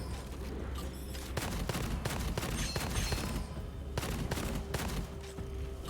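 Rapid bursts of gunfire ring out in the shooter game Gunfire Reborn, sharp shots crackling in quick clusters over a steady game background, fairly faint and with no talk.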